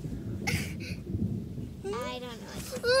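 Low rumbling thunder rolls beneath light rain during a thunderstorm, with a voice crying out over it near the end.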